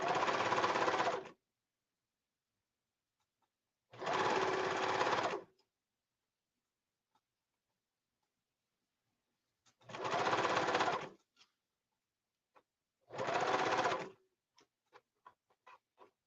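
A sewing machine stitches pleats into a skirt in four separate runs of rapid, even whirring, each lasting about a second, with quiet pauses between and a few faint ticks near the end.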